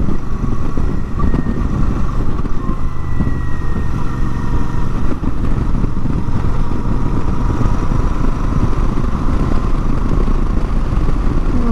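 Royal Enfield Super Meteor motorcycle riding on the Interlagos race track, a loud steady engine drone with a rumbling, pulsing low end and wind noise, close and continuous throughout.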